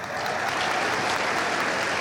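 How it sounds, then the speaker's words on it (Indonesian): Studio audience at a television talk show breaks into sustained applause, a dense, even wash of clapping that holds steady and fairly loud throughout, with no talking. "Tepuk tangan buat saya"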